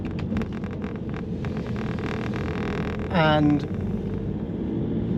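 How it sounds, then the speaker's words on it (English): Rattly PSA diesel engine in a Volvo S40 saloon heard from the cabin while driving, a steady low drone and hum running throughout under a voice, with a brief rising whine near the end. "the PSA diesel is very rattly"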